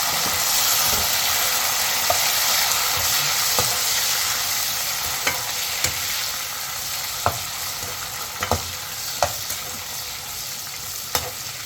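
Tomato pieces sizzling and frying in a pan with a steady broadband hiss, punctuated by occasional sharp crackles and pops, cooked in a home kitchen, no voices.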